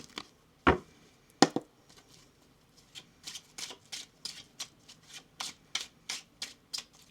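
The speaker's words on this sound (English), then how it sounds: "One more shuffle here, please" Tarot cards are shuffled by hand in a quiet room: a couple of loud slaps of the deck, then a steady run of crisp, evenly spaced riffling flutters, close and alone.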